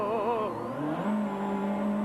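A Peugeot rally car spins a 360° donut drift on a stage of Rally Catalunya, its engine revving and swooping in pitch while the tires squeal, loud and close throughout.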